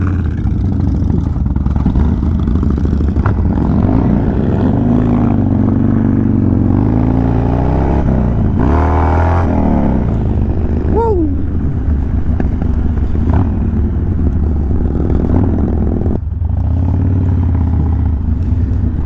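A Harley-Davidson Sportster and a Road Glide Special idle and rev their exhausts during a group ride, with a deep, uneven rumble and a couple of rising throttle blips close by, no talk over it.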